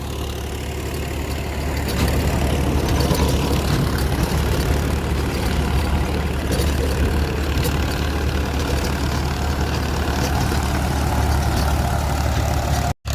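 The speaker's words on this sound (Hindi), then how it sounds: "कमेंट में जाकर जरूर बताना कि कैसी आपको ट्रैक्टर की साउंड लग रही है" A tractor engine pulling an 8-foot rotavator runs steadily with a deep, constant low rumble and mechanical clatter, loud and unbroken for over ten seconds.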